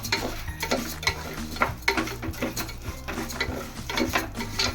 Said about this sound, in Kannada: 1 ಕಪ್ ಹೆಸರುಬೇಳೆ ಹಾಕೊಳ್ಳೋಣ. ಹಾಕ್ಕೊಂಡು ಸ್ವಲ್ಪ ಲೋ ಫ್ಲೇಮಲ್ಲಿ ಫ್ರೈ ಮಾಡ್ಕೊಳ್ಳೋಣ